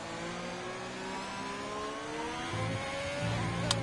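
Several race car engines in a racing video game whine and rev continuously in the distance, pitches sliding up and down with gear shifts, without any talking.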